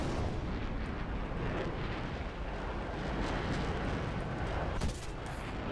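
Rounds from a 30mm cannon fired in a jet combat video game featuring a MiG-21-type fighter. A dense, loud, continuous roar of fire runs throughout, with a sharper burst near the end.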